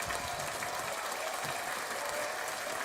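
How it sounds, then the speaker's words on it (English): A studio audience applauds steadily throughout, a dense, even wash of clapping hands at moderate distance with no voices over it. "I made the audience clap for you."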